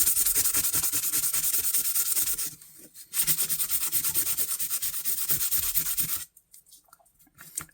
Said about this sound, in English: I'm going to use a little bit of heavier sandpaper and see if that'll get rid of it.